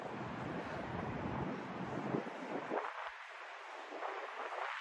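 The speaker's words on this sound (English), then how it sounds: "A little windy, as you could hear." Strong wind buffets the microphone on an outdoor walk through Manhattan, with low rumbling gusts that ease partway through, leaving a steady airy rush.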